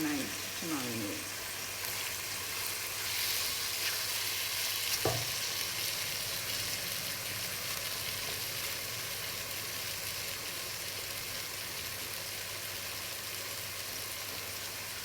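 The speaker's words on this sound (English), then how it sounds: "So we just want to leave this to brown, and we're going to brown it on both sides." Marinated beef tailbone, seasoned with garlic and grated ginger, browns in a pan with a steady, faint sizzle and frying crackle. A short clatter comes early, then the hiss runs evenly to the end.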